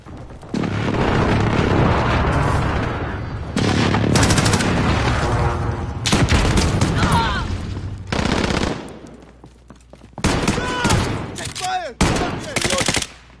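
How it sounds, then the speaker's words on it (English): Loud explosions and heavy gunfire from a precision airstrike in the Call of Duty Modern Warfare video game, with repeated booming blasts in bursts and brief quieter gaps between them. "Enemy precision airstrike."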